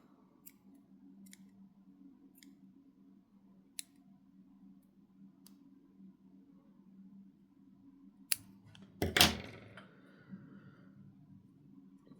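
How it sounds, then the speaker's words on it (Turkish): Scissors snip through dark crochet yarn at a bookmark project, a couple of close, sharp cuts near the end after a long quiet stretch with faint ticks. "Burada koyu renkli ipi artık kesebiliriz."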